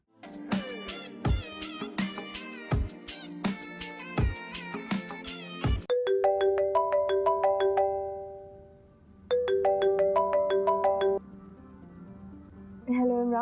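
A telephone ringtone in an old Pakistani telefilm rings out as a bright, repeating electronic melody in loud bursts, with a short pause before it resumes and a brief snatch at the end.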